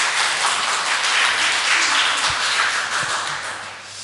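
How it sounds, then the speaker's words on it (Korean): Sunday worship congregation at a Korean church applauds a vocal ensemble after a hymn, a dense, steady wash of clapping that fills the room and fades slightly toward the end, with no speech over it. "하나님께 아름다운 찬양을 올려드린 우리 중창단에게 다시 한번 격려의 박수 부탁드립니다."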